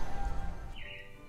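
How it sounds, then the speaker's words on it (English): Robins at the Magic Kingdom theme park give a single short, high chirp that sweeps through the middle of the clip, faint against a low background rumble. "it looks like the Robins are getting ready to celebrate Valentine's Day today"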